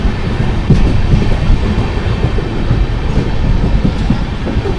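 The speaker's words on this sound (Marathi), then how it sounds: "चला पनवेलवरून मी ट्रेन पकडले." The Jamnagar–Tirunelveli Express running on the rails, a loud, continuous rumble with repeated clickety-clack wheel beats over the track joints, heard close and steady throughout.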